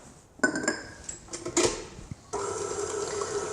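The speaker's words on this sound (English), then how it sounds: "We're going to mix it together until it's nicely blended." Carrot cake batter with eggs being mixed in a bowl, scattered clinks and taps of a utensil against the bowl, then a steadier whirring blend toward the end, fairly quiet, no speech.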